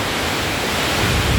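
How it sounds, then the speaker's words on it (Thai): Strong gusting wind and heavy rain of a summer storm roar as a dense, steady broadband rush that fills the whole moment, loud and close with a slight swell toward the end. "ว้าอุ้ยลมแรงมากพี่น้องจะตายเลยโอ้"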